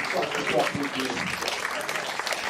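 Applause from an audience at a gathering honouring a long-running association, a dense, steady patter of clapping throughout, with voices mixed underneath.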